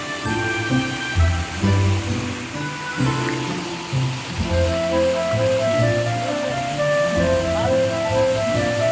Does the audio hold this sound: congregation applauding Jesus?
no